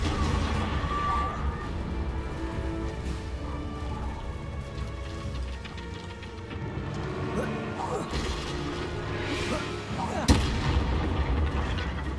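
Confringo explosive spell going off in Hogwarts Legacy on PC, heavy booming blasts and crashing impacts over a dense, continuous game soundscape, with a sharp louder hit near the end.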